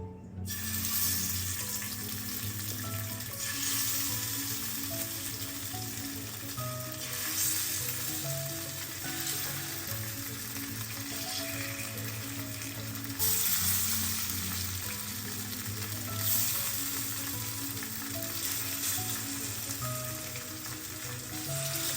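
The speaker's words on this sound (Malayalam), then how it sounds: "ഇനി ഇത് പൊരിക്കാൻ വേണ്ടി ഞാനൊരു ദോശക്കല്ല് അടുപ്പിൽ വെച്ചിട്ടുണ്ട്." Nangu fish frying in oil on a dosa griddle, a steady loud sizzle and crackle running continuously without pause, close up, with occasional surges in intensity and no talking.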